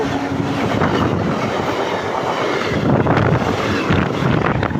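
Namkhana local train rushing past at an accident where it struck a toto, with a loud, continuous roar of rolling wagons and heavy wind buffeting on the microphone throughout.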